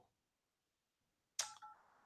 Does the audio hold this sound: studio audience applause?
no